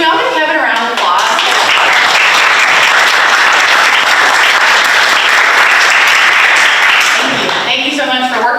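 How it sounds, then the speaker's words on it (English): Sustained round of applause from a group at a town council meeting, dense steady clapping for several seconds, with talk just before and after it. "can we all give Kevin a round of applause?"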